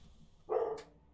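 A dog gives a single short bark in the background of a quiet room during a gaming stream, faint and brief.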